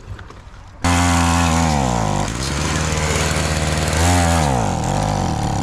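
A stunt mini bike's small engine starts up abruptly and runs loud and close with the choke on, its pitch rising and dipping as the throttle varies, with no one speaking over it.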